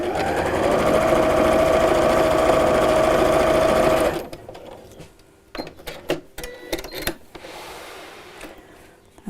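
A sewing machine stitching a patchwork pin cushion, running in a loud continuous whirr for about four seconds, then stopping, followed by quieter scattered clicks and fabric handling.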